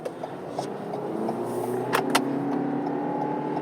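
A 2020 Toyota Corolla LE accelerating at full throttle from inside the cabin, a steady, rising engine drone with road noise and a couple of sharp clicks, no talk.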